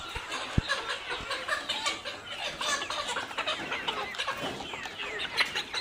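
Layer hens in farm cages cluck and murmur as a flock, a soft, continuous mix of overlapping clucks and chortles with a few sharp louder calls and clanks near the start.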